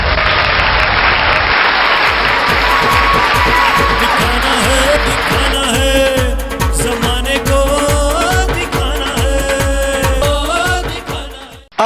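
Loud audience applause and scattered cheers welcome an award achiever to the stage at a celebration, dense clapping at first, then settling into steady rhythmic claps under music before fading out.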